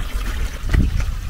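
Spring water trickles and splashes from a village fountain in a continuous, close, fairly loud stream with small irregular surges.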